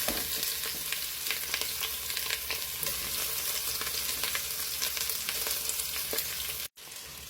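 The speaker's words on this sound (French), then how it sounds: "On va mettre un peu d'huile, les oignons. On va mettre la viande. On va griller un peu la viande." Meat and onions fry in hot oil, a dense, continuous crackling sizzle heard up close with faint stirring ticks, cutting out abruptly near the end.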